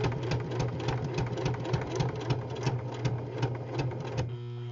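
A Kenmore sewing machine stitches through four layers of fabric, its motor humming steadily with rapid rhythmic needle thumps that strain under the thick load, then stops near the end.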